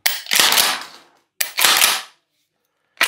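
The pump action of an Akdaş AP-212T shotgun being worked, two loud metallic clack-and-slide cycles spaced about a second apart with a third starting at the end, close and crisp in a quiet room.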